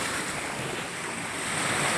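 Sea waves and wind along a coast ahead of a super typhoon, a steady broad roar of surf with gusty wind buffeting the microphone, continuous and fairly loud without any voices.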